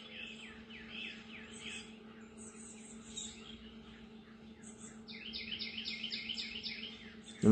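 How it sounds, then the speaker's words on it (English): Birds sing at sunrise on a late-May Sunday morning, with several high, quick chirps and trills layered over one another. A steady low hum sits beneath, and the song grows denser and a little louder toward the end. "Love hearing the birds sing."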